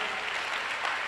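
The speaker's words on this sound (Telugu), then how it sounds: "కొట్టు చప్పట్ల గట్టిగా" A church congregation claps at a Krupa Ministries service in Guntur, a dense, steady burst of many hands heard close and moderately loud for about a second.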